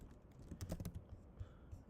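Keys tapped on a computer keyboard while entering a formula in Notion, a short burst of several clicks near the middle, close and fairly quiet with no talking.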